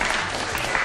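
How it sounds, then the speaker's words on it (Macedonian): A short burst of applause from an audience for students of Goce Delchev primary school in Centar, a dense, even wash of clapping filling the whole moment. "Аплауз за нив!"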